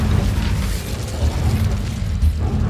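A rushing, booming fire spell, Incendio, cast in Hogwarts Legacy, with a loud, dense low roar and crackle that holds steady for under three seconds.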